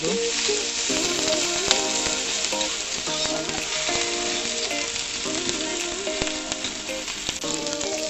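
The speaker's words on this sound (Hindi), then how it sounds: "एबे आमे पकाइबू अदा और रसुण रो पेस्ट" Ginger garlic paste sizzles with onions in a hot pan for a prawn malai curry, a steady bright frying hiss running throughout, with faint scrapes and clinks from stirring.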